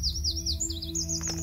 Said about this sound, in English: Man, that bird is just chirp, chirp, chirp.